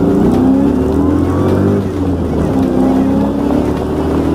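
A Kenne Bell supercharged New Edge Mustang pulls hard through the gears, its engine note climbing, dipping at a shift, then rising again loud and close.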